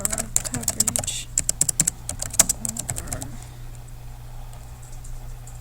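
Typing on a computer keyboard, with bursts of quick, close key clicks in uneven runs that stop partway, leaving quiet room hum.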